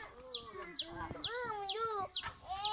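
A chicken clucks repeatedly in short rising and falling calls, fairly close and clear against a quiet outdoor background.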